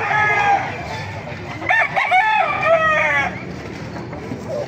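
A sinibalang gamefowl rooster crows loudly and close by, with a clear rising and falling call in the middle of the clip against faint background noise.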